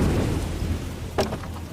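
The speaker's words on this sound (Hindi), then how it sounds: "बारिश लगातार पूरे 20 घंटों तक बरसती रही" Heavy rain pours steadily at sea during a long storm, with a sudden low rumble of thunder about two-thirds of the way through, close and fairly loud.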